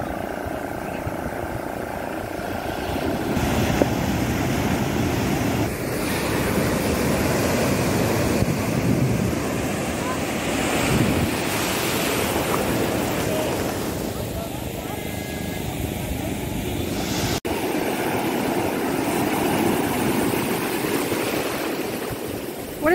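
Sea surf at Puri beach, a continuous loud roar of breaking waves with heavy wind buffeting the microphone throughout.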